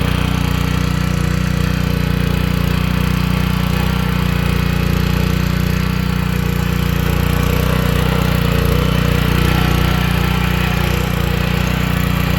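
A 6.5 HP vertical-engine power weeder earths up soil in a row-crop field, its engine running loud and steady with a dense low rumble and constant mechanical vibration, close up and uninterrupted.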